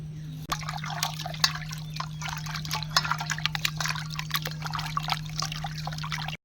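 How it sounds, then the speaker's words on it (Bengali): Chicken meat being washed in water for handi biryani, with close, soft splashing and trickling as the pieces are rinsed, over a steady low electrical hum. "হান্ডি চিকেন বিরিয়ানির জন্য মাংসটাকে ধুয়ে নেব"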